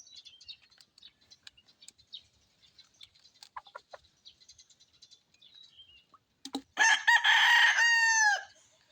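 Scattered faint chirps and soft chicken clucks give way to a loud, close rooster crowing in one long drawn-out call.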